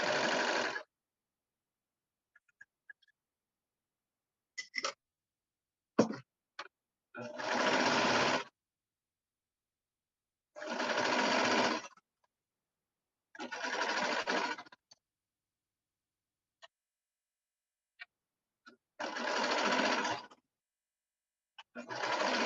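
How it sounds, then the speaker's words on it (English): A sewing machine stitches a shirt from corner to corner in several separate runs of about a second each, spread across long quiet gaps with a few faint clicks and handling noises between them. "I'm going to sew from that corner to the other corner."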